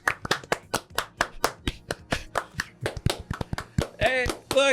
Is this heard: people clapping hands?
yes